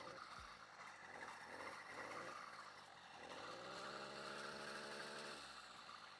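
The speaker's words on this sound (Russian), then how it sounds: "Смотрите, вот так работает этот движок, просто шелестит." A small gasoline engine fitted to a bicycle runs quietly, a faint, steady, low whirring hum with a soft rustle and no speech.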